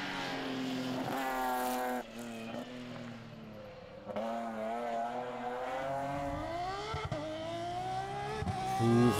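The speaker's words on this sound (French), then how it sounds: "Vous reconnaissez ce son, c'est le moteur d'une Porsche" A Porsche rally car engine revving hard and shifting through gears during a rally, its pitch rising and falling repeatedly, loud and close throughout.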